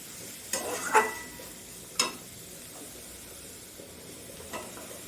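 Chopped bottle gourd tossed into fried spices in a pan for a Bengali prawn dish gives a soft sizzle, with a few sharp stirring scrapes and clacks standing out over the quiet frying.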